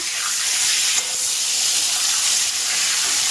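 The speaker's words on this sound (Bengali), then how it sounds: "এইবার এখানে আলু বেগুন ভাজতে বসিয়ে দিয়েছি।" Sliced potatoes and eggplant fry in a pan, giving a loud, steady, close-up hiss of sizzling oil that hardly changes throughout.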